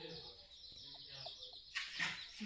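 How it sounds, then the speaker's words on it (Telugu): Several chickens cluck in a short, soft run of quiet calls, ending in a louder burst of clucking. "ఇవన్నీ కోళ్ళు"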